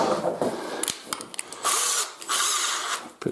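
A power screwdriver drives new fixing screws into a door during a repair, whirring loudly in several short, close bursts separated by brief pauses.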